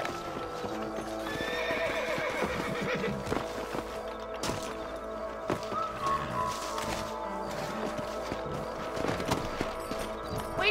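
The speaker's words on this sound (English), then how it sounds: "Let's get back on the horses and see what else is going on." Horses in the game Red Dead Redemption clip-clop at a trot, hooves thudding in a busy rhythm, while one neighs and whinnies near the start and again midway amid a dense rustling game soundscape.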